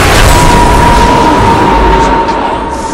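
A loud booming crash as a Radiant bottom tower falls in Dota 2, a dense sustained rumble with a steady tone running through it that fades slightly toward the end.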